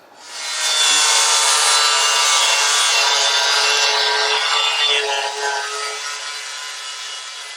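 Steady, loud metal grinding during work on a ratty rod build, a continuous abrasive rasp that runs nearly unbroken for several seconds and eases slightly toward the end, with no talking.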